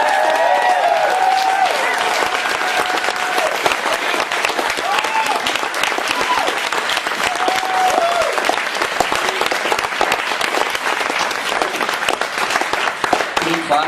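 Sustained applause from an audience at a Quiet Lightning reading event, dense and steady for about fourteen seconds, with scattered whoops and voices rising through the clapping.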